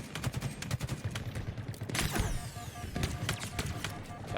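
Halo Infinite Big Team Battle gunfire, rapid bursts of weapon shots and impacts in a busy game mix, with a louder sweeping blast midway, moderately loud throughout.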